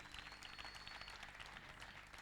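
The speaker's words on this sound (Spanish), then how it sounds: "le damos un aplauso a nuestra hermana" Soft, steady clapping from a church audience welcoming a woman forward to give testimony, faint and somewhat distant, with a thin high tone running briefly through the first half.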